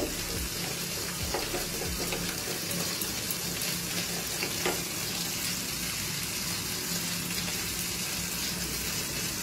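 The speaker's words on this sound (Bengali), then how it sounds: "এখন ভালো করে মিশিয়ে নেব" Potol korma sizzling in a pan as cumin powder is stirred in, a steady close frying hiss with soft scraping, continuous and fairly loud.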